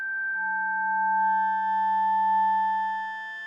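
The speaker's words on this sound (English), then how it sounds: "And now actually we just have some static sine waves." Steady static sine tones from a Joranalogue Collide 4 synthesizer module hum together at fixed pitches, clean and unchanging, with a faint higher tone fading in partway through.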